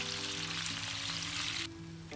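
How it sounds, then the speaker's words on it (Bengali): Katla fish pieces rubbed with salt and turmeric frying in oil, a dense steady sizzle that drops off sharply near the end, with a low tonal hum underneath and no speech. "তো এখানে মাছগুলো প্রথমে ভেজে নেব। এটা ছিল কাতলা মাছ, তো এটা জাস্ট লবণ হলুদ দিয়ে তেলে ভেজে নেওয়া।"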